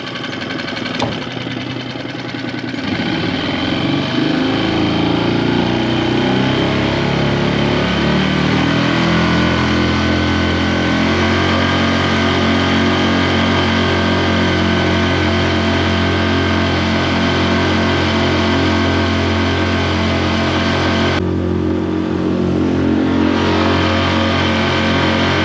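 Mercury 6 hp four-stroke outboard motor running at top speed on the water, a loud, steady droning engine note that swells briefly at the start and then holds evenly throughout, with no talk.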